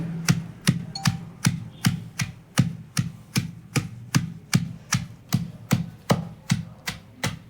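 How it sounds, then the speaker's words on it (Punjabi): Coriander chutney with onion being pounded in a mortar, about seventeen steady, evenly spaced thuds of the pestle in a regular rhythm, close and fairly loud, with no voices. "ਆਪਾਂ ਹੁਣ ਇਹਨਾਂ ਸਾਰੀਆਂ ਚੀਜ਼ਾਂ ਨੂੰ ਕੁੱਟ ਕੇ ਕਰ ਲਾਂਗੇ ਤਿਆਰ"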